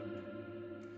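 A sustained guitar chord washed in heavy Black Hole reverb, the notes blurring into a dense, shimmering wash that hangs without decay.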